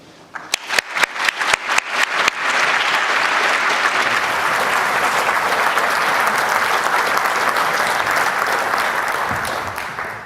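An audience applauds to welcome Professor Frank Close as the Andrew Chamblin Memorial Lecturer; a few scattered claps quickly build into loud, sustained, even applause filling the hall.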